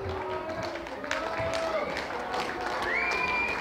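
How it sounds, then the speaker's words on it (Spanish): Applause from guests at a quinceañera celebration, steady clapping and cheering from a crowd, with voices and whistles rising above it. "que se escuchen fuerte los aplausos"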